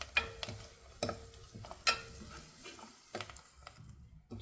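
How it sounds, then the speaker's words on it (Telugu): Asafoetida and spices fry in a little oil for drumstick rasam, a soft sizzle under sharp, intermittent spoon taps and stirs against the pan, fairly quiet and close, with no talking. "ఇంగువ ఇలా వేసేసుకొని దీన్ని కూడా ఇలా ఫ్రై చేసేసుకోవాలి"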